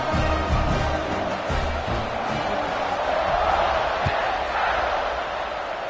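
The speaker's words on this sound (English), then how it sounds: "this crowd is buzzing after that last score" Stadium crowd at a college football game buzzes with a steady, loud roar after a score, continuous throughout, with some scattered nearby shouts and thumps in the mix.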